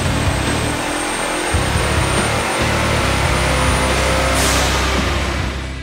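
A turbocharged 2010 Ford Mustang with a Hellion kit runs on a dyno with a loud, dense engine roar and a high turbo whine that holds steady, then tapers at the end.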